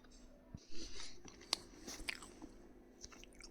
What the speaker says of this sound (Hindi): मैं अभी बैठ गई हूँ खाना खाने के लिए